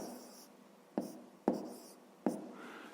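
Pen writing numbers by hand on paper, three sharp taps and scratchy strokes in a quiet room, close and soft, with no talking.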